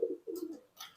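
Belantong Gembros pigeon cooing up close, a soft low coo repeated twice in quick succession over about a second, followed by a brief rustle.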